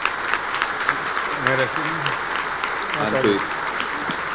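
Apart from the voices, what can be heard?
audience applause welcoming speaker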